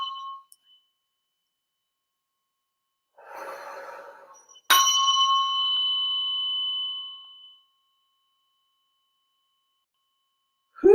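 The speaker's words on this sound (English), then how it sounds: "I'd still like it to have a more of a ringing sound, so we're going to hang out here a little longer." A tuning fork used in biofield tuning gives a soft breathy rustle, then a sharp strike and a clear bright ring that sustains for a few seconds and fades, with a brief sound at the very end.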